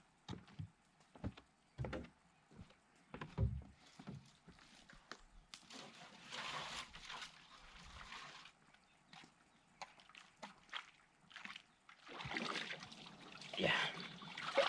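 Jugs are filled with lake water outdoors in the woods, giving irregular sloshing, trickling and gurgling bursts with occasional knocks, fairly quiet and close.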